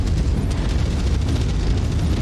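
Continuous heavy rumbling blasts of cannon fire and explosions from a battle mech in MechWarrior 5, loud and dense, filling the whole moment without pause.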